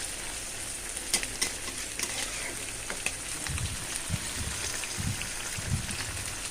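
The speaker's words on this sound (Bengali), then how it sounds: "আর এই পাশে কিন্তু আমি তরকারিটা রান্না করার জন্য মাছটা দিয়ে দিচ্ছি ভাজি, মাছ ভাজি করতে।" Fish frying in a pan with a steady broadband sizzle, brief stirring scrapes and a few louder spattering pops, close and continuous with no talking.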